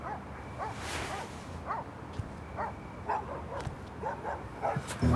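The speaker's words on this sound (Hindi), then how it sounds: "ये कुत्ते क्यों इतना भौंक रहे हैं?" Dogs barking outdoors at some distance, a series of repeated yaps and barks spread across the moment over low background noise.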